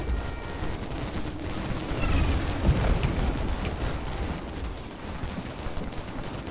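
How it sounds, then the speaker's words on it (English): Artillery shells pound the field in a Gettysburg Civil War battle game, a dense, continuous rumble of overlapping booms and crackling blasts with one heavier thud midway, and no voices. "noticing that they're under heavy shell fire"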